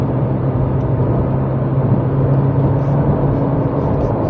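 A McLaren rolls over road bumps with a steady, loud low drone of engine and road noise filling the cabin; no distinct thumps stand out, just continuous close rumble.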